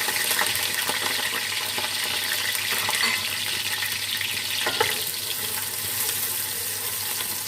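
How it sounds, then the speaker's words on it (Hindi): Onion sizzles in hot oil in a kadai, a loud, dense and continuous frying hiss close up with occasional light clinks of a spoon, no one speaking. "प्याज को हम फ्राई कर लेते हैं।"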